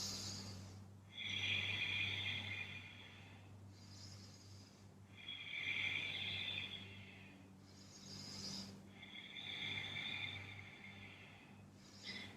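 Slow, deep breaths during a yoga stretch in lizard pose, with long soft inhales and exhales in a steady rhythm, close and quiet over a low steady hum.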